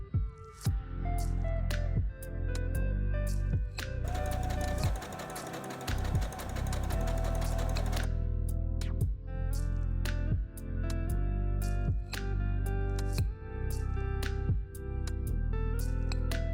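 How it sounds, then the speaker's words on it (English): A sewing machine stitches the front and back pieces of a summer shirt together, running in a steady mechanical rhythm of short bursts with brief pauses, close and alone, with one longer buzzing stretch midway. "I stitched together the front and back of the shirt, right sides together"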